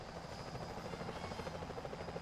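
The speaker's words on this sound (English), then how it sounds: "Careful, Sly. Those security choppers are bad news." A security helicopter from Sly Cooper: Thieves in Time hovers with a fast, steady rotor chop, a continuous throbbing drone at moderate distance with no voices.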